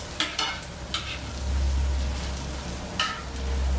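Apple pie donuts frying in hot oil, a steady close sizzle broken by several scraping clicks as they are turned and flipped in the pan.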